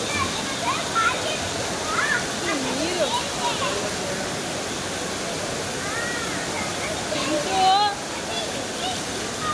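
Heavy rainwater rushes and splashes around a flooded temple during a downpour, a loud, steady broadband roar that continues throughout with some faint voices nearby.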